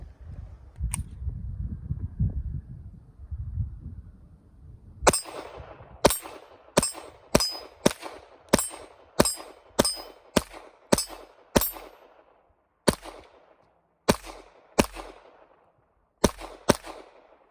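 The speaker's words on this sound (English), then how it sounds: "Let's do some shooting." Taurus TX22 pistol firing Remington .22 ammunition outdoors: a string of about fifteen sharp, close, loud shots, first in a steady rapid rhythm, then more spaced toward the end, with a low rumble of handling before the first shot.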